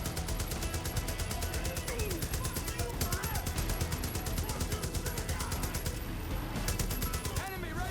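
Sustained automatic gunfire in the Far Cry New Dawn video game, a dense, rapid stream of shots mixed with bursts and game effects that runs throughout at a steady, loud level, with a voice speaking over it.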